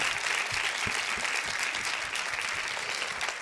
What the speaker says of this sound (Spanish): Vamos a darle un aplauso para agradecerle a Juan León.